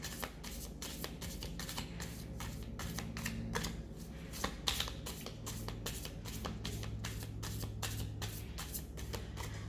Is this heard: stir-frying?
no